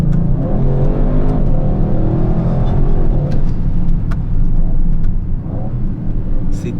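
Audi RS car accelerating hard out of a curve, with a loud, steady engine roar and rising harmonic drone from inside the cabin that swells with speed across the whole stretch.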